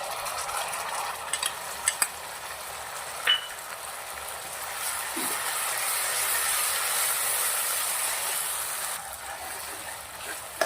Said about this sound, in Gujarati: બે થી 3 મિનિટ આવી રીતના સાંતળી લેવાનું છે